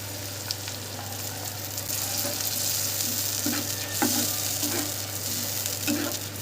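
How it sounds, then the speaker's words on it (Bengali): A paste of ginger, garlic, onion and chilli frying in a pan with a splash of water for doi katla fish curry: continuous close sizzling with repeated soft scraping stirs, no voices. "এবার মশলার পেস্টটা এর মধ্যে দিয়ে দিচ্ছি আদা, রসুন, পেঁয়াজ আর লঙ্কার পেস্টটা"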